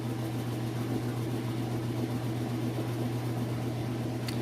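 A Whirlpool washing machine on its spin cycle gives a steady mechanical hum with a low drone, spinning fast, constant and unbroken with no voices.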